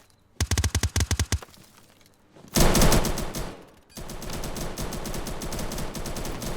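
Gunfire in a tactical shooter video game as a player shoots out a camera: a quick burst of about nine sharp shots, a pause, then a loud crash and a long dense stretch of sustained fire and noise.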